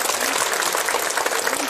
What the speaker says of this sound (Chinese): 我建议把掌声送给他们。